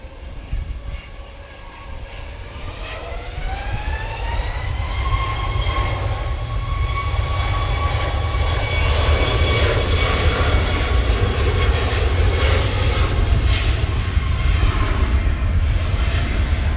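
A TUI airliner bound for Budapest on its takeoff roll at a windy Manchester Airport, its jet engines spooling up into a rising whine and then a loud, steady roar that swells and holds, heard alone without talk.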